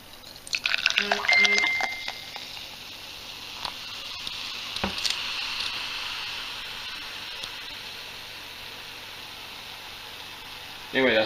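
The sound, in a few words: kombucha flavored with grape jelly poured into a glass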